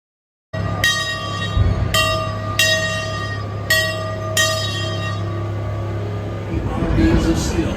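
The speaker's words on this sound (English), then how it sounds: "we're gonna get a ride on the train" Scenic railway train ride at Six Flags Great America starting up, with a steady low engine drone and several loud, sharp horn or whistle blasts spaced about a second apart, then rumbling motion noise building as the ride continues.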